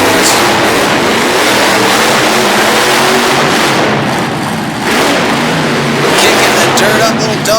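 A monster truck with a dangling headlight bounces across the dirt racing lanes of a tough truck course at a Harrisburg, Pennsylvania event, its engine roaring loudly and steadily under an announcer's commentary.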